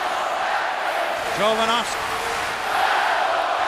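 A hockey arena crowd at a Red Wings playoff game fills the air with a steady, broad roar, while an announcer talks over it and a brief horn-like tone rises above the din.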